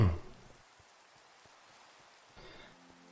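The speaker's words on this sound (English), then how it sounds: "it's always raining lately when I start these streams." Rain falls in the Minecraft world, a faint, soft continuous hiss with scattered light droplet ticks and a brief louder swell near the end.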